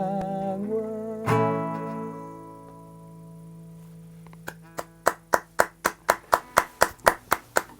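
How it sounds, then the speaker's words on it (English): An audience claps in steady unison, about a dozen crisp, evenly timed beats that build in strength after sustained musical tones fade out. "And we'll use that applause"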